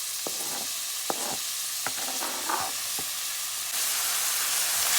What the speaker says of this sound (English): We're gonna go in with all our onions now.